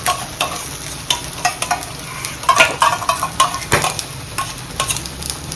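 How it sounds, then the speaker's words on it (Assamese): Chicken kebab pieces coated in Purabi yogurt fry in hot oil in a pan, giving a close, steady sizzle broken by repeated scraping stirs and light clinks, with no voices. "ইয়াক মই তেতিয়ালৈ ফ্ৰাই কৰিম যেতিয়ালৈ পানীটো বেলেগ নহয় আৰু তেলটো বেলেগ নহয়"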